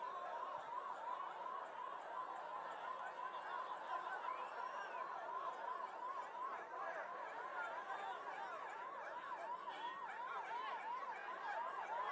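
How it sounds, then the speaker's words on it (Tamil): An ambulance siren wails in a steady repeating rise-and-fall pattern, moderately distant and faint, beneath a murmuring crowd at an outdoor election campaign rally where people are chattering. "ஆம்புலன்ஸ் வருது, வழி விடுங்க."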